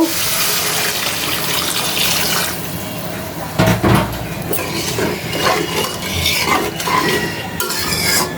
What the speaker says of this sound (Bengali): মুলাটা সুন্দর করে কষানো হয়ে গেল জল দিয়ে দিব